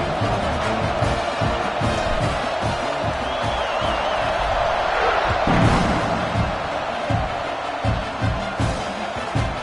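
A football stadium crowd roars at kickoff after an extra point, a dense, steady wall of cheering and shouting with scattered whoops and thumps, loud and sustained throughout with a brief swell midway.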